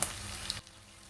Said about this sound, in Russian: на среднем огне в оливковом масле я обжариваю лук